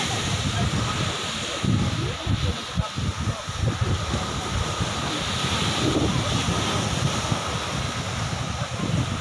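Rough surf rolls in at Puka Beach, Boracay, a continuous wash of breaking waves with heavy wind buffeting the microphone and faint voices mixed in.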